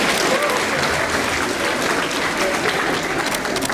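Steady, dense applause from a crowd at a debutante ball, loud and continuous throughout with a faint voice or two briefly audible over the clapping.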